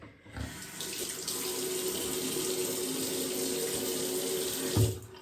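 Water runs steadily from a bathroom tap while a bubble face mask is rinsed off, a continuous splashing gush close by that lasts several seconds and then cuts off.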